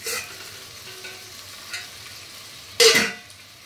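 A little water poured into a hot pan for koi fish curry sizzles in short bursts, ending in a louder burst of hissing sizzle, with faint stirring scrapes and no talking.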